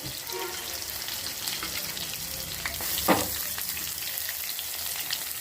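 Onions hit hot oil with fennel, cinnamon and cloves for a mushroom curry, a loud steady sizzle and crackle throughout with a sharp stirring scrape in the middle, no talk.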